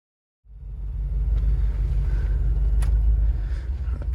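A 1988 short-wheelbase Range Rover Classic on a road test, a steady loud low engine and road rumble starting abruptly after a brief silence and holding close and constant, with a faint click or two.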